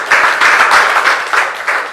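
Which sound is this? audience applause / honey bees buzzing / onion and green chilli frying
audience applause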